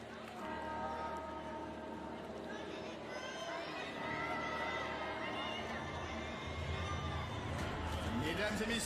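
A wheelchair tennis crowd at a men's doubles semi-final between Great Britain and France murmurs and cheers in a dense, continuous hubbub, with an amplified voice speaking over the noise.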